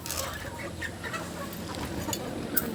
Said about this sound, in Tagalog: magpapakain tayo ng mga manok